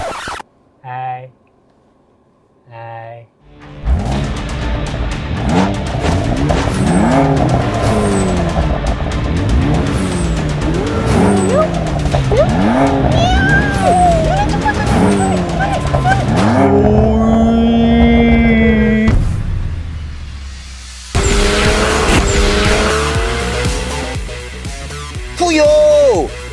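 An Audi A5 Sportback speeds off after a few short sounds, its engine revving loud and close through rising and falling gear pulls, then easing off before another hard acceleration.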